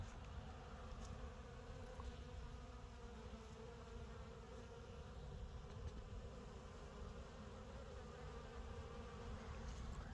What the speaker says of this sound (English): Absolutely littered with bees.